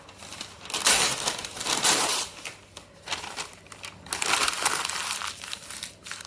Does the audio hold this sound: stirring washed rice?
no